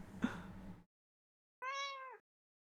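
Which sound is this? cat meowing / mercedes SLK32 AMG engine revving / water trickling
cat meowing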